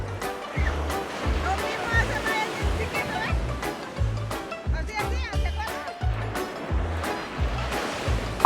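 Surf rolling in at Jones Beach, a continuous washing roar with gusty low rumble, heard under a person talking throughout.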